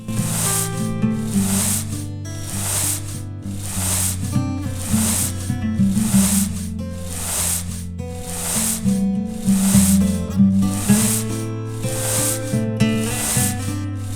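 Rhythmic brushing strokes on a horse in the video game Champion Dreams, a steady series of soft scrubbing bursts about once a second, heard over continuous background game music.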